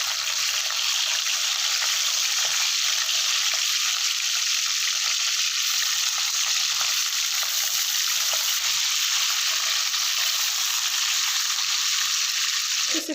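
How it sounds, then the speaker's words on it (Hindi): Fish frying in a pan for village-style masala fish curry, a loud, steady, close hiss and sizzle of hot oil running unbroken throughout with no talk. "थोड़ा सा फ्राई करना है, ज़्यादा इसको नहीं पकाना, अच्छे से भून जाए।"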